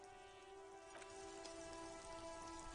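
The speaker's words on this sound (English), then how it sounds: "This rain will not let up anytime soon." Rain in the video game Disco Elysium, a soft steady patter on surfaces with faint drops over a low tonal hum, quiet and continuous with no talking.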